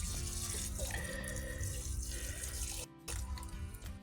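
Liquid fertilizer water pours steadily onto garden soil in a South African garden, a close, continuous splashing stream that briefly cuts off near the end before resuming.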